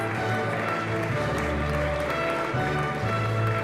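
A large audience at the European Charlemagne Youth Prize ceremony in Aachen claps steadily, a thick continuous patter of hands held at an even level throughout, with faint background music blended in.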